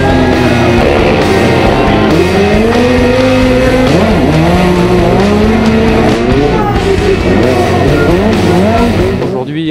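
A stunt car performs acrobatics at a motorcycle show demonstration, its engine loudly revving up and down in rising and falling whines with tire squeal, continuous and close throughout, with voices faintly mixed in.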